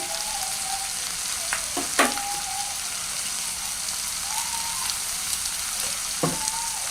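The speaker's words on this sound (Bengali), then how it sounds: "লবণটা দিয়ে দিচ্ছি এখন আমি একটু নাড়াচাড়া করে দিব" Bamboo shoot and prawn curry sizzling in a pan as it is stirred, a steady frying hiss broken by a few soft scraping knocks of the spoon, with no talking.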